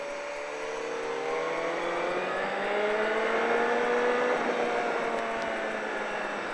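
A race car on a circuit during a track-day session holds a steady engine whine that slowly climbs in pitch as it accelerates. It sounds loud and close, like an onboard recording.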